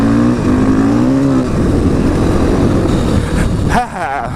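A KTM 500 EXC dirt bike rides down the street with a loud, close engine drone rising and falling as the rider works the throttle, and a voice speaks over the engine.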